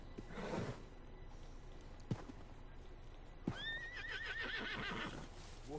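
A horse in Red Dead Redemption 2 on PS4 whinnies loudly in a wavering, high neigh near the end, after a couple of sharp thumps and soft hoof steps, with no talk.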